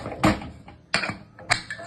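Several sharp metallic clanks and clicks, close and fairly loud, as a pressure cooker lid is fitted and locked onto the pot, with short pauses between.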